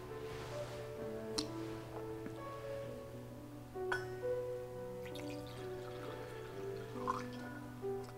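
Water poured into wine at a Catholic Mass, heard as soft trickles and small glassy clinks set against a steady low organ drone in a quiet church.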